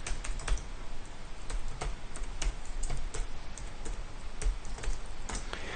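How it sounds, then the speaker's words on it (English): Someone types an R command on a computer keyboard, a quick, uneven run of crisp close key clicks continuing without pause and without talk. "So let's type that in."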